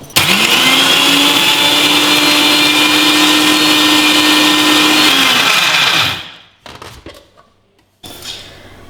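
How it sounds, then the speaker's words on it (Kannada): A mixer grinder jar grinds paneer pieces smooth with no water added, giving a loud steady motor whine for about six seconds before it winds down and stops, followed by a few quiet handling clatters. "ಇದೆಲ್ಲದು ಒಂದು ಜಾರ್ಗೆ ಹಾಕೊಳ್ಳೋಣ. ಇದಕ್ಕೆ ನೀರೇನು ಹಾಕ್ತಲೇ ಸ್ಮೂತಾಗಿ ರುಬ್ಕೋಬೇಕು."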